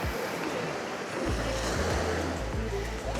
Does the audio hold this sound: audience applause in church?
no